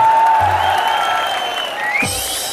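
Applause from a comedy show audience, a broad, steady patter of clapping under a faint tonal hum, dipping slightly before a brief rise near the end.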